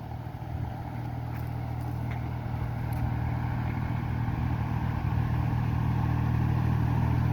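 A tractor working a castor field chugs steadily with a low mid-range engine drone that grows slightly louder as it draws nearer, with no talk over it.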